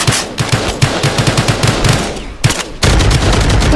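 Rapid machine gun fire in the Roblox video game, loud and close, with dense bursts of shots in quick succession and a brief pause before the firing resumes.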